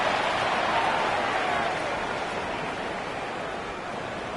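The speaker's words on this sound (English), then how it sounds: "The crowd at Arrowhead roaring." A football crowd roars at Arrowhead stadium, a dense, steady wall of cheering noise that holds loud throughout and eases off only slightly toward the end, with no clear voices standing out.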